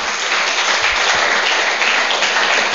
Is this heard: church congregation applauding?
yes